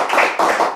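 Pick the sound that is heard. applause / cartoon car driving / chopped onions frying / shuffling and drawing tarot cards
applause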